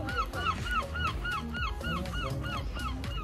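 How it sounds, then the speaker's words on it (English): Seagulls give rhythmic honking calls on the Cornwall coast at Polperro, repeating rapidly, roughly four per second, fairly close and continuous over faint background noise. "Noisy seagulls!"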